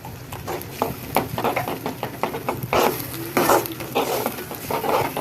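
A spoon scrapes and clatters against a pan in quick irregular strokes while masala gravy with vinegar sizzles and bubbles softly underneath.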